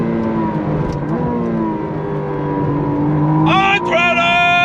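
A 2025 McLaren Artura Spider supercar accelerates hard on throttle, engine note climbing steadily in pitch with a sharp higher-revving surge near the end, loud and continuous from inside the car, with voices talking over it.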